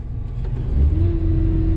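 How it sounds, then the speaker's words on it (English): A farm vehicle engine on a soybean harvest day revs up in one short rising burst, loud and close, settling into a steady low hum with no voices. "Give her a little rev and she just goes right out."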